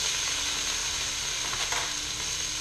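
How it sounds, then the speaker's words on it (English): Mushroom juice dropped onto a hot flat-top griddle while cooking Philly cheesesteak, a loud continuous close sizzle and hiss with a brief burst as the liquid hits, no talking. "Take that juice, drop a little bit of that juice on there."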